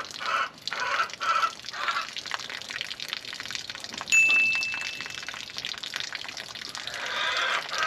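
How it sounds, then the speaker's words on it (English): Water running and trickling through a homemade survival filter of gravel, sand and charcoal, a steady close splashing flow with brief surges, alone with no talk. "You want to run water through it like 3 or 4 times to get all the dust off the gravel and the sand and charcoal"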